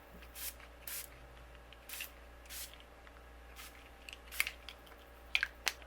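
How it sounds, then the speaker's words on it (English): Several short hissing bursts of ink sprayed from a spray bottle onto paper, spaced irregularly, with faint tapping and small handling noises in a quiet room. "I'm going to spray my penguins and my background."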